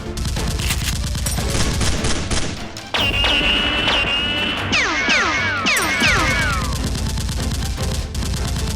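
Action-film gunfight with dense bursts of gunfire, loud and continuous, mixed with whizzing and ricochet-like streaks and a rising score, lasting throughout.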